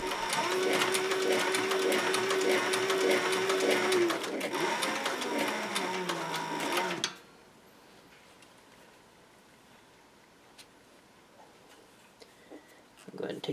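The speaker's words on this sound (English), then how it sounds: "while I stitch it together." A leather sheath for an old bowie knife is stitched by hand with a steady run of soft, close ticking pulls for about seven seconds, followed by a much quieter stretch with only faint handling noises.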